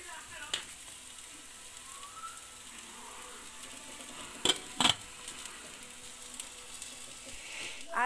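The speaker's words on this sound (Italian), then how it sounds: "finisco di far cuocere le fettine, le faccio cuocere tutte così" Thin meat slices fry in a pan with a steady, soft sizzle. A few sharp clinks of a utensil against the pan rise above it near the middle.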